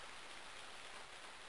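Steady rain falling on a rainy day in the farming video game Harvest Moon: Friends of Mineral Town, a soft, even hiss that continues unbroken and faint.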